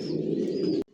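Racing pigeons cooing in a loft, a dense continuous warble of several birds close by, ending abruptly with a brief quieter gap.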